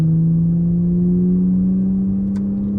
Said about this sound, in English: The crossover when it goes from one gear to another